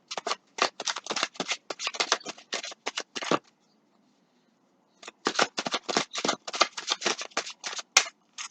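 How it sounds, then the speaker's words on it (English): Tarot cards shuffled by hand in a quiet room, a long run of quick crisp riffling bursts, a pause of silence, then another steady series of close, papery shuffles. "I'm going to shuffle."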